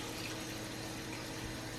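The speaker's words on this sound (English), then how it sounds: "I'm going to go ahead and run our water" Tap water runs steadily into a kitchen sink holding raw chicken to be washed, a constant broadband rush and spatter with no pauses and no talking.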